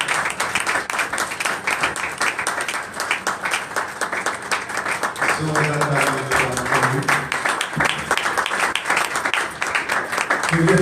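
A church congregation at a youth seminar claps steadily in praise, a dense continuous applause with a voice rising over it partway through.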